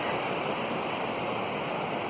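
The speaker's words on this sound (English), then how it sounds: "The river." A river rushes through a mountain valley on a backcountry trail, a steady, dense wash of flowing water heard continuously and fairly close, with no voices.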